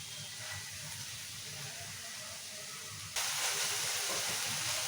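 Fenugreek leaves and tomato cooking in oil for a tomato methi curry give off a steady, loud hiss that jumps up in level partway through, with no talking over it.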